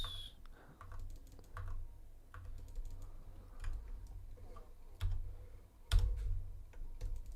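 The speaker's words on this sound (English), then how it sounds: "they're typing pretty dang fast" Fast, steady typing on a computer keyboard, a run of light, close key clicks with a few louder taps, under a low background hum.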